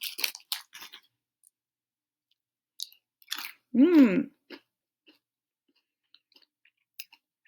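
Close, crunchy chewing of M&M's candy-coated chocolates in short bursts separated by quiet gaps, with a brief voiced sound in the middle.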